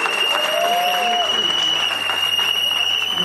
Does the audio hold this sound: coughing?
no